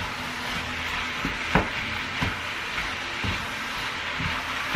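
Rice fries in a pan while being broken up and stirred, giving a steady sizzle broken by several sharper scrapes and taps of a utensil against the pan, close by, with no one talking.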